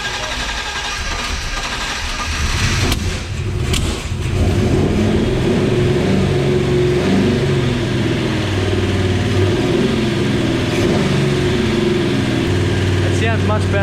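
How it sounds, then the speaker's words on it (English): A car engine fitted with its original Quadrajet carburetor starts for the first time, then runs with a rough, throbbing rumble that rises and falls. Brief clatters and a voice can be heard over the engine. "we've just got the original quarajet on there. Let's see if it starts up for the first"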